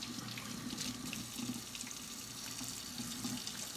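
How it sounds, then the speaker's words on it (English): Running tap water splashes steadily over hands being washed in a sink, a soft continuous hiss with faint rubbing and splashing variations, fairly quiet and close, with no voices. "After peeling my potatoes, I am once again going to wash my hands."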